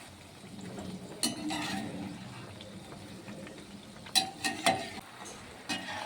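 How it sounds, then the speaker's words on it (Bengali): Nimki snacks frying in hot oil, a soft continuous sizzle with occasional stirring and utensil scrapes against the pan, close and fairly quiet, with no talking. "বাকি নিমকিগুলোকে একইভাবে ভেজে নেব"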